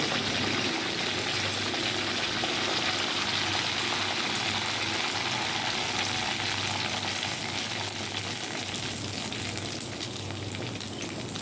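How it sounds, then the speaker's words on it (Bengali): Gur pitha, jaggery rice-batter cakes, deep-frying in hot oil, giving a steady, dense sizzle and bubbling hiss that holds evenly throughout, close up with no talking. "তেলটা সুন্দর গরম হয়ে গেছে এবার কিন্তু আমি গুড়পিঠেটা ভেজে নিচ্ছি"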